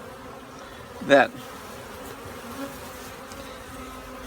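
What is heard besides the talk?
honey bees buzzing around queen from bee package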